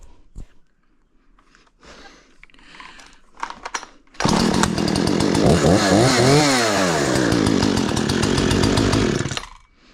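Some faint knocks and shuffling, then a Husqvarna chainsaw starts and roars loudly, revving up and down before dropping off near the end.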